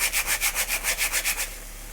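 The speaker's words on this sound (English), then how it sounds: "I'm just going to grate this, and because it's frozen it grates super easy" Frozen ginger scraped across a kitchen grater in about ten quick, even rasping strokes, close and crisp, then stopping, with no voices.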